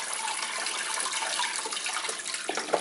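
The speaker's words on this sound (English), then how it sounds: "drain out the water," Water from boiled purple potatoes is drained off in a steady, continuous rush of pouring liquid, close and fairly loud throughout, with no talking.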